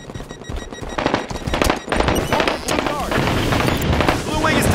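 Gunfire in a Halo 5 Big Team Capture the Flag match on the Basin map, rapid bursts of automatic shots and heavier booms in a dense, loud battle mix, with game announcer voices over it.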